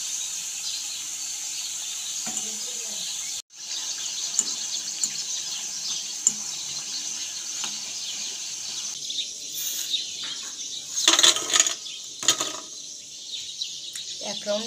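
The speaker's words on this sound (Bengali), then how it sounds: "আমি এখানে পাপড়িগুলো ভেজে নিচ্ছি" Papri, flat dough crisps for a vegetarian papri chaat, deep-frying in hot oil: a steady, close sizzling hiss runs throughout, dropping out for a moment early on, with a few louder crackles and clatters near the end.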